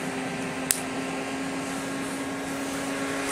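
Steady whirring hum of a small cooling fan inside a homemade 100-watt LED flashlight, pulling air through the heatsink, a constant close drone with a faint tonal whine and a couple of brief clicks.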